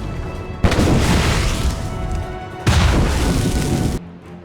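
Two heavy mortar blasts in Assassin's Creed Rogue, each a sudden loud boom with a long rumbling roar that fades before ending abruptly.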